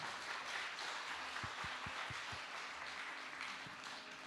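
An audience at a Christmas ball and awards evening applauds, a moderate, even wash of clapping from a fairly distant crowd lasting a few seconds with no talk.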